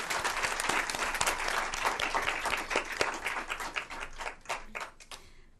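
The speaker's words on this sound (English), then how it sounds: "please give her a round of applause as well." Applause from the audience at a school board meeting: many hands clapping densely and steadily, fairly near and loud, thinning toward the end as the claps fade out.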